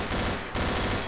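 Fully automatic weapon firing in the Garry's Mod game, a rapid dense burst of loud gunshots that fills the short moment with no pause and no speech.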